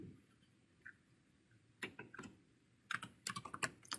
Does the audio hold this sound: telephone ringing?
no